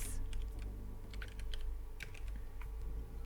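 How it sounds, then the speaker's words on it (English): Computer keyboard typing during a Live2D setup session: a quick run of soft, close key clicks in short irregular bursts over a low steady hum, with no speech. "Nope, I can't type."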